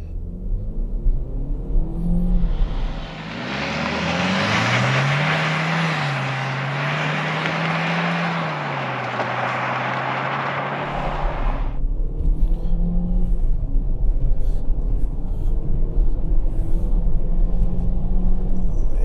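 Chevrolet Equinox RS 2022 with the 1.5-litre turbo engine pulls hard from 0 to 100 km/h, a loud sustained engine roar with a rising whine and gear changes over about nine seconds, then settles into steady cabin road rumble.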